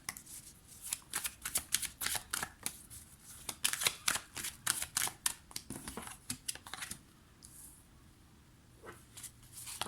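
Tarot cards are shuffled and drawn in quick bursts of crisp riffling and flicking, close up, with short pauses between bursts and a quieter stretch near the end; no one speaks.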